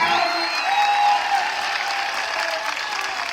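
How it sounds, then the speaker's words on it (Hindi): Audience applause filling a hall, steady dense clapping throughout with a whistle-like tone briefly rising above it. "कैसे ताली बजाते हो?"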